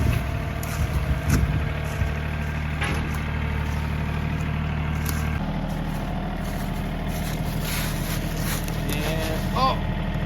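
A 4x4 van engine idles and rumbles steadily while backing up, a low continuous drone with a shift in pitch midway and faint clicks and squeaks over it.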